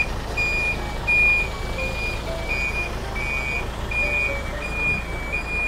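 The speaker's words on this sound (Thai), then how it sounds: "ตอนนี้มีรถอีกคันถอยเข้ามาครับเลยมีเสียงปิ๊บปั๊บปิ๊บปั๊บปิ๊บปั๊บดังไปหมด" A Hino Mega 500 truck gives off steady, regular reversing beeps from a short distance, repeating evenly over a low background rumble with no talk.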